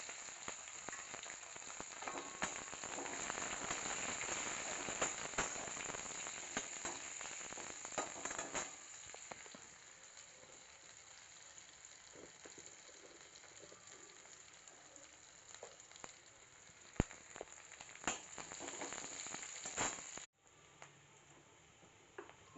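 Onions frying in oil in a home kitchen pan, a loud continuous sizzle that settles into a quieter, sparser crackle partway through, with a few sharp clinks near the end and no talking.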